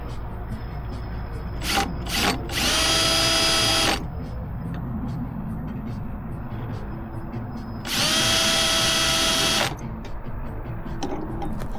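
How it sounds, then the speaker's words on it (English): A power drill pre-drills holes through a metal bracket in two loud, close bursts of high whining, each about two seconds long, with shorter spurts of drilling and quieter handling noise between them. "So I'll pre-drill the holes in the bracket."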